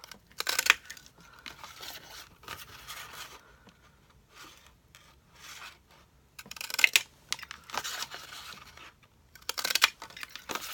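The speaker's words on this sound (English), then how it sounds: "So I'm just going to randomly cut some holes." Scissors cut random holes in a piece of craft material to make it look like holey cheese. Crisp snipping bursts come in short clusters, separated by quiet pauses.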